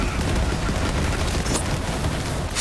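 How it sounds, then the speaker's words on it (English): Rapid gunfire from the Sawbar rifle in the video game Borderlands 3, a dense loud barrage of shots and booms filling the whole moment without pause. "you can just straight up shoot that guy and take him out"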